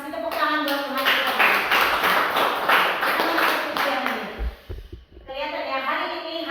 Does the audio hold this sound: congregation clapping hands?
yes